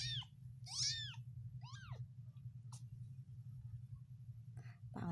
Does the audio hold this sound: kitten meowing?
yes